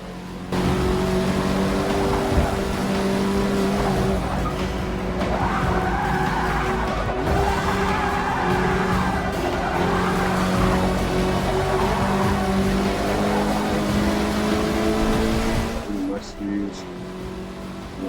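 Race car engine in Forza Motorsport 6, a sustained loud drone with rising and falling revs and tire squeal under braking into a corner, while someone talks over it throughout.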